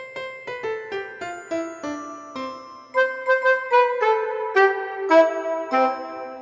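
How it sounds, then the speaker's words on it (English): A Lowrey organ plays a bright melody in bell-like and reedy clarinet tones with a whistling edge, notes struck in a steady, lilting rhythm. "So there was a clarinet, there was bells, and there was a whistle in there."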